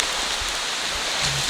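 Warm rain falling in the Ecuadorian rainforest of the eastern Andes, a constant soft hiss of drops on leaves and surfaces, even and close throughout.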